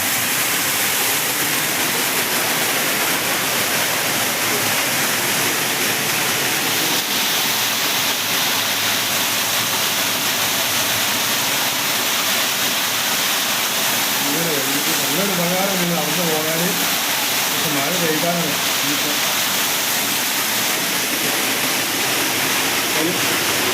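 Rainwater gushes under a culvert bridge beside the NH 66 highway in Malappuram during rain, a loud, steady roar of rushing water that fills the whole clip, with a voice briefly heard beneath it.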